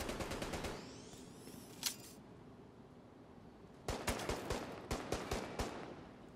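Gunfire in The Division 2 shooter game: a quick burst of rapid shots, a single sharp crack, a pause, then a spaced volley of loud individual shots, close and with no talk over them.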